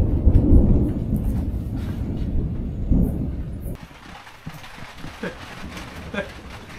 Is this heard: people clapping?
no